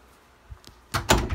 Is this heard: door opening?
yes